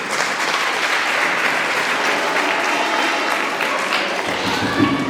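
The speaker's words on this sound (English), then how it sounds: "Clap for yourselves" Audience at a school debate competition breaks into loud, sustained clapping that fills the whole stretch, a dense close wash of hands with faint crowd voices mixed in.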